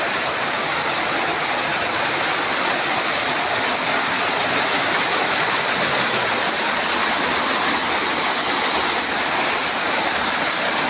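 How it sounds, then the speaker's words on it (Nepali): A swollen seasonal stream rushes after monsoon rain, giving a steady, loud, broadband roar of churning water that stays even and unbroken throughout, with no voices. "साउने झरी सकिएपछि खहर उर्लेको"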